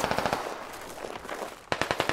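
Rapid bursts of automatic gunfire in the game Squad rattle in quick succession, pausing briefly before another sharp volley; fairly close, with no talking.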